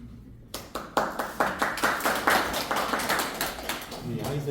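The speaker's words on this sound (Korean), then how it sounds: "같이 공감하시니까 박수 치신 거죠?" Applause at a labour issues meeting with lawmakers in Gwangju, starting after a brief quiet gap and continuing as distinct, fairly close handclaps in a steady rhythm.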